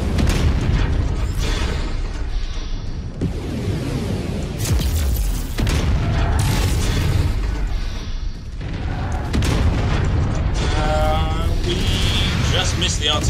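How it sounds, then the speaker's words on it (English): Artillery explosions in Mechwarrior 5, repeated heavy booms and blasts among mechanical battle noise, loud and dense throughout, with a voice talking over them. "Just missed the artillery, I think."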